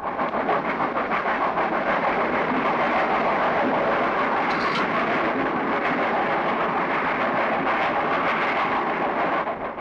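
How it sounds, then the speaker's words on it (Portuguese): An old Mogiana railway steam train runs steadily and loudly close by, a continuous rumbling roar with faint rhythmic clatter and no break for the whole stretch. "O velho trem de ferro fez furor no século passado."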